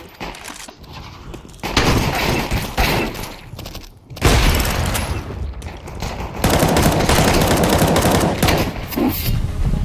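Counter-Strike 2 gunfire in an arms race match: loud, dense automatic bursts that come in clusters, with short lulls between them and sharp shatter-like cracks among the shots.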